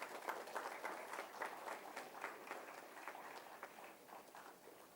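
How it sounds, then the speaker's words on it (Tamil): Audience applause at a ceremony honouring guests, a steady patter of many hands clapping that stays fairly faint and distant throughout. "உங்களின் பலத்த கைத்தட்டலோடு"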